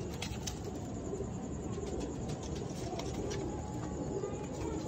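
A domestic pigeon coos from its loft beside a tree, low soft rolling calls blending into steady outdoor background noise, fairly faint and continuous.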